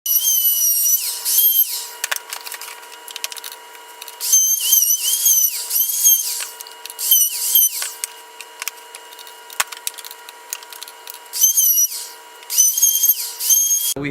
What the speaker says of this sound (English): Now we're gonna router it.